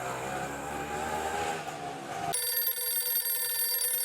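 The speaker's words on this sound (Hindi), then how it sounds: "आपका फोन बज रहा है" A telephone rings with a steady electronic tone in the back half, following busy street and vehicle noise in an Indian comedy TV scene.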